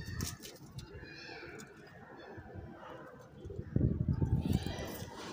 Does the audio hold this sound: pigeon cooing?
yes